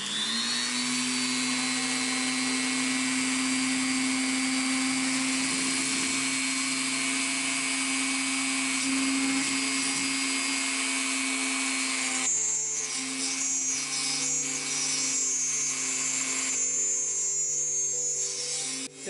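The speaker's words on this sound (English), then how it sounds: "you want to drill the hole such that you're leaving 1/16 of an inch of material on the end of the brass tube" A power drill bores a hole through a brass tube near its end, a steady high whine holding for about twelve seconds before the tone shifts and chatters as the bit cuts through, loud and close with no talk.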